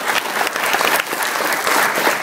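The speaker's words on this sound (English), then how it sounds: "That deserves applause." Loud, close crowd applause at a film festival Q&A with Adam West, brisk overlapping claps filling the room throughout without pause.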